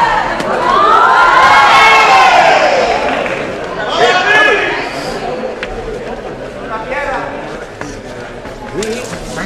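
A loud crowd at a 2014 stage performance in Algeciras cheers and shouts, with excited voices rising and falling throughout and no clear break in the noise.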